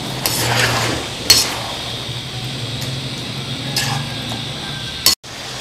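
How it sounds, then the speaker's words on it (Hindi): Beef is fried with yogurt in a kadai: a spoon clinks and scrapes against the pan a few times over a soft sizzle and a low steady hum, with no talking. "3 खाने के चम्मच दही डाल दें और फिर इसको भूनते हैं।"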